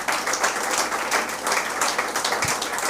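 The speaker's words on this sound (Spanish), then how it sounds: "De un aplauso, Señor." Church congregation applause, a dense, steady crowd of clapping hands filling the room without pause.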